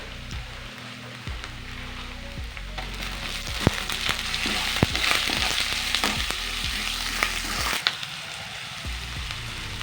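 Onions fry in hot oil with ginger and garlic for a paneer bread biryani, a steady sizzle with scattered crackles and spoon-stirring clatter that grows busier midway before settling, with no voices.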